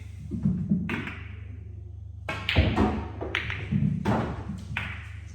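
Pool balls in an 8-ball game under international rules click sharply against each other and drop into a pocket. Several crisp taps spaced a second or so apart ring out close by, over a low steady hum.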